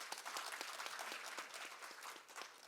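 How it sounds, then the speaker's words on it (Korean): Audience applause at a business policy forum in Korea, a steady dense wash of many hands clapping that carries evenly through the whole stretch, moderately distant and without voices. "네, 박수 부탁드립니다."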